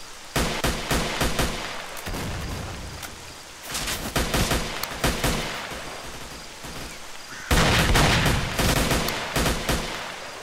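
Bursts of automatic gunfire ring out in S.T.A.L.K.E.R.: Shadow of Chernobyl, rapid dense volleys near and loud, separated by short pauses, with the final stretch the heaviest.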